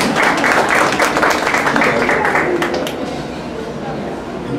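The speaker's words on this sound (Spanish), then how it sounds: "Un fuerte aplauso para él, por favor." An audience at a formal event in a hall bursts into applause, dense close clapping that stays strong for a few seconds, then thins and fades, with a murmur of voices beneath.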